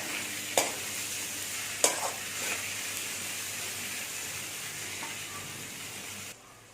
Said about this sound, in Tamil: நல்லா கலரி கலரி விட்டு ஃப்ரை பண்ணணும்